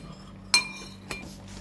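A spoon clinks twice against a bowl while yeast, warm water and honey are stirred together, a sharp close tap followed by a softer one over quiet background hum.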